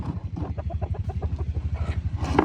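Black hens, one of them broody, cluck in a rapid, regular pulsing rhythm close by, with a few higher calls near the end.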